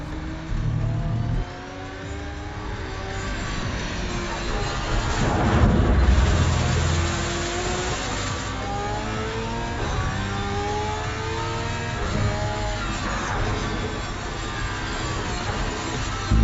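Race car engine in Project Cars 3 racing online, a steady loud drone with rising and falling rev sweeps as it accelerates and shifts, continuous throughout with no talking.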